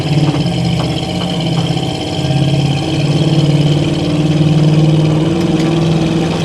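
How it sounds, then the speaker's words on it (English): A 1976 Chevrolet C10 pickup engine idles with a steady low rumble up close, then slowly builds as the truck eases away, with no voices. "trying to get out here without peeling out."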